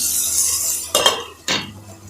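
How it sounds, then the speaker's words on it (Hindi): Two sharp metallic clatters about half a second apart as a lid is set onto a pan of vegetables cooking for semolina upma, over a low background hiss. "सब्जियों को कुछ देर तक हम ढककर पकाएंगे।"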